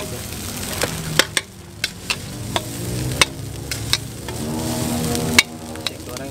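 Indonesian fried rice, nasi goreng, sizzles in a wok at a street food stall, with steady frying hiss broken by sharp metallic clanks of a spatula scraping and striking the pan, close and loud.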